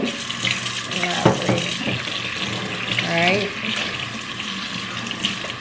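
A running tap streams steadily into a sink while a hookah is rinsed out, with splashes and gurgles from the water hitting the glass, and a voice is heard faintly in the background.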